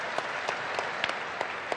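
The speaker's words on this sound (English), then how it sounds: "Big round of applause for these guys." A short burst of audience applause at BlizzCon, steady dense clapping from a crowd at close range, heard on its own.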